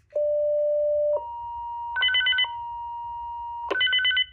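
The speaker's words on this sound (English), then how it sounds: "So for a Motorola radio, this is what it sounds like for an alert tone when it receives a page." Motorola XPR two-way radio alert tone on receiving a page: a steady beep, then a long held tone broken by two bursts of rapid warbling chirps, loud and close with no talking.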